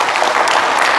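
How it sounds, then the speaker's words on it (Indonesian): A crowd at a business talk in Bali breaks into brief, dense applause, loud and close, lasting only about a second. "Tepuk tangan buat semuanya."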